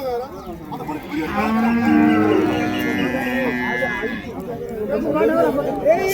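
Native cart bullocks moo loudly at the Uthangarai cattle market in Krishnagiri district, Tamil Nadu, with one long drawn-out call rising over nearby voices talking and a general market hubbub.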